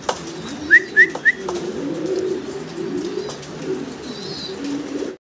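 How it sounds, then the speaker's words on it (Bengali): Three quick, bright bird calls ring out near the start, followed by soft low cooing and rustling close by. "এক জোড়া স্টেসার কবুতর, স্টেন্সিল কালারের ভিতরে"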